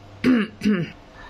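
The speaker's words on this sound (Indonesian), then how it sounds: "aku garuk tenggorokan dulu tadi. Gatal. Agak batuk" Two sharp, close throat-clearing coughs in quick succession from someone speaking Indonesian, followed by a faint trailing breath.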